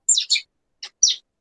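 A pet bird chirps in a few short, bright bursts: two quick calls close together, a brief pause, then two more, clear and near against silence.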